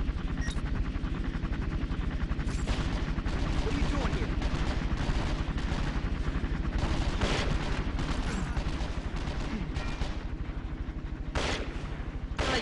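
Dense, continuous gunfire from the video game 24: The Game, with revolver shots mixed into a steady barrage of rapid bursts and a few sharper cracks standing out, loud and close, with no talk over it.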